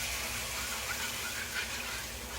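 Water from big glasses poured into thickening gravy in a black skillet, a steady close gush and splash that runs without pause, loud and even, with no talking over it.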